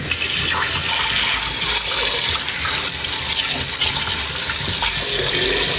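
Water gushes from a tap into a pot for ramen broth, a loud, close, continuous rushing fill that holds steady from start to finish without speech.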